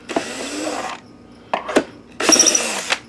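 Screws being removed from the bottom of a BenQ TK850 projector give short bursts of whirring from a small powered screwdriver, separated by brief clicks and handling noises close by.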